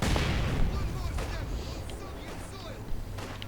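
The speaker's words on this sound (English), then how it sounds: "5th Panzer Division Panzer Grenadiers advancing under cover of mortar fire" Mortar fire in a Company of Heroes match as 5th Panzer Division Panzer Grenadiers advance: dull low booms and rumbling impacts over a busy battle din, with a sharper blast near the end.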